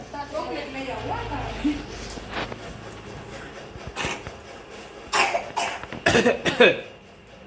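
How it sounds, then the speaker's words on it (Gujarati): A series of sharp coughs, several in quick bursts toward the end, close to the listener, after some quieter background chatter. "ઉધરસ થઈ ગઈ"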